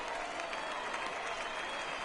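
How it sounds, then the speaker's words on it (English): Crowd applause at a minor-league baseball game between the San Antonio Missions and Northwest Arkansas Naturals, a steady wash of clapping and crowd noise from the stands that holds at an even level throughout. "that right there, really good indeed as the managers are clapping"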